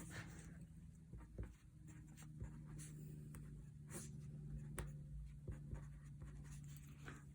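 Quiet, close scratching of a pen on paper as a math formula is written out in short, uneven strokes against a faint background hum.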